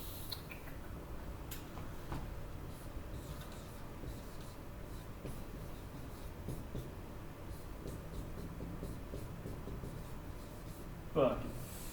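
A pen writes on a computer screen, faint soft scratches and taps running steadily for several seconds, close and quiet with no clear voice over them.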